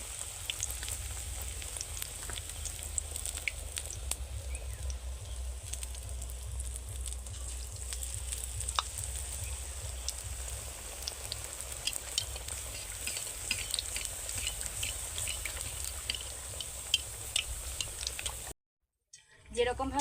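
Eggplant fritters (beguni) fry in hot oil in a wok, a constant dense crackle and bubbling sizzle with scattered sharp pops and spoon scrapes, close by for a long stretch before a short cutoff.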